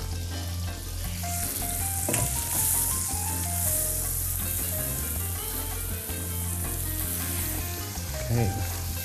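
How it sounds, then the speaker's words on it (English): Chopped onions and garlic frying in hot oil and butter, a dense, steady sizzle close up with a low hum in the background and a few stirring scrapes. "once the oil and butter mix is hot, add in the chopped onions and your garlic"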